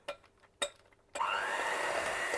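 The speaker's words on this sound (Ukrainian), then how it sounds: "Треба файно взбити, щоб побіліло масло." An electric mixer whips butter with powdered sugar for a cream. Two sharp knocks come first, then the motor whirs to a steady, loud, high-pitched whine that holds to the end.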